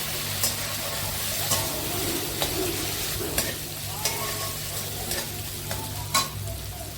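Brinjal frying in a pan with tomato and a little sugar, a steady close sizzle with repeated sharp scrapes of a spatula stirring at irregular intervals throughout.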